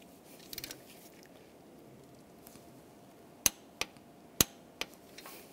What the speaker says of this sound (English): Now I'm gonna torque this bolt to 41 foot-pounds.